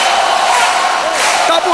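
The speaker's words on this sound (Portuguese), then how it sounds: "festa da torcida" A roaring, sustained crowd cheers and celebrates during a Superliga volleyball match between Pinheiros and Florianópolis, a dense wall of voices filling the arena from start to finish, with a commentator's voice partly mixed in.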